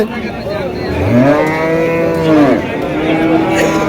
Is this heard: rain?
no